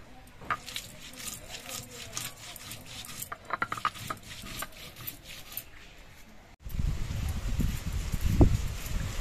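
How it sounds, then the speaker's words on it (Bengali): Spices ground together by hand on a flat grinding stone for a fish curry, giving steady close scraping and rubbing strokes that turn heavier and coarser toward the end. "এবার এগুলো একসঙ্গে বেটে নিচ্ছি।"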